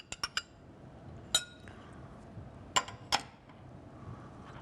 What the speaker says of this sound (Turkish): Şimdi nohutumu ekliyorum.